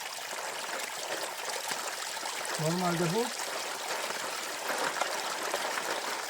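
Water flows underground beneath a streambed, a continuous broadband rushing hiss at moderate level, with a voice speaking briefly in the middle.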